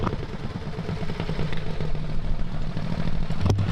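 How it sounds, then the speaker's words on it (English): A Wheel Horse garden tractor engine runs at a garden tractor pull at a spring show, a steady rumbling, clattering mid-pitched drone close by that builds slightly and ends with a sharp rising burst. "Very unique tractor here. This is a wheel horse tractor."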